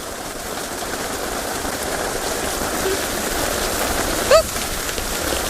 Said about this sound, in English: I'm just gonna stay quiet for about 10 seconds so you can hear the rain all around us